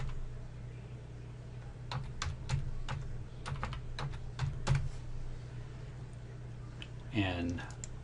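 Login credentials are typed on a computer keyboard as a string of crisp, quiet key clicks in an irregular rhythm over a low room hum, followed by a brief voice near the end.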